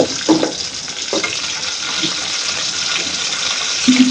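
Spice paste frying in oil on a stove, a continuous close sizzle and crackle with a few soft stirring scrapes, steady throughout.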